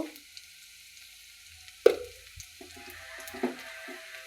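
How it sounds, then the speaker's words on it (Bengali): Spices with garlic and cumin fry in oil in a pan for a thin fish curry, giving a faint steady sizzle broken by a couple of sharp clanks of a utensil. "মশলাগুলো ভাজা হয়ে গেছে"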